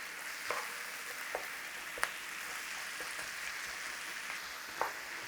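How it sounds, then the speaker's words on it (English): Minced beef frying with onions in a pot gives a soft, even sizzle with occasional light clicks of a utensil, fairly quiet and close with no voices. "So what we're trying to do now is cook off some of this beef."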